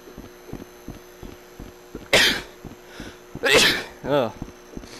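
A person sneezes sharply near the microphone, then follows with a second burst and a short voiced gasp or cough, over quiet background clicks during an online game session in Rec Room.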